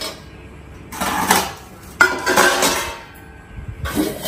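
Kitchen pots, lids and tiffin boxes are handled while a new home's kitchen is organised, with metal clattering and clinking in three bursts near 1, 2 and 4 seconds and quieter rattling between them.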